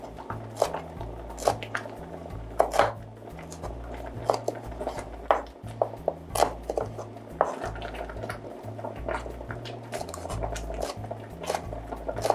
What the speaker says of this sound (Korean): 씨를 다 뺀 붉은 고추를 이렇게 해서 채 썰어 줄 거예요.